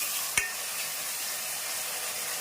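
Chili powder, coriander powder and turmeric stirred into hot frying oil for a fish-head curry, giving a steady close sizzle throughout with one sharp utensil tap near the start.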